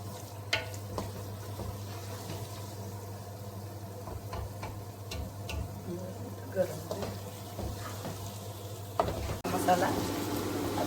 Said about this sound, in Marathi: आता आपण 5 मिनिट हा परतून घेणार आणि आपण छोले आणि ते बटाटा घालणार आहोत